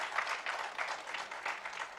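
Students seated at the back of a hall at a convocation ceremony cheer and clap, a faint, distant patter of rising and falling bursts lasting a couple of seconds.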